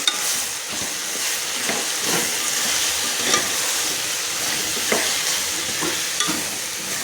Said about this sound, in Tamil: போட்டு நல்லா கிளறி விடணும்.